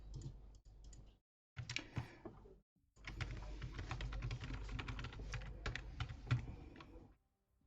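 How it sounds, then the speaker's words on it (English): Fast, steady typing on a cheap, quiet electronics-store computer keyboard, dense soft key clicks in continuous runs broken by brief silent pauses, close and alone without talk. "I have bought the cheapest keyboard at the electric store because there's no sound when you click on the keys."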